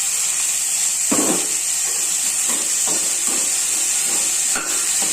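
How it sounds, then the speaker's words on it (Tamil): Chopped bottle gourd goes into a pan of fried onions and spices, adding to a continuous loud hiss of frying, with several sharp scraping and stirring knocks spread through the clip. "இப்போ நம்ம சுரக்காயை போட்டுக்கலாம்"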